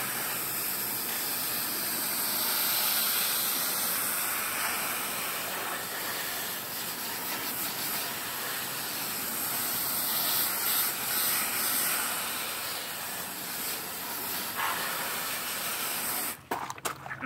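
Steady broadband water spray hissing close up while rinsing the evaporator of a 1982 Hotpoint Fashionaire 9,700 BTU air conditioner, continuous for the whole stretch with a few clattering bumps near the end.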